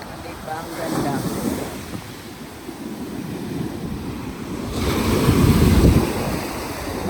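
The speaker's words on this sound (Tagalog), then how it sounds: "The wave is kind of strong." Ocean waves at Kauai island, surf washing in with a swell that builds and recedes, heavy wind buffeting the microphone, moderately loud and continuous.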